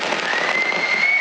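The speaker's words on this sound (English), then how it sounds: "That was the fireworks show in Auckland, New Zealand" Fireworks at a New Year celebration in Auckland, New Zealand, heard as a steady, dense crackling roar from a distance with a faint whistling tone running through it.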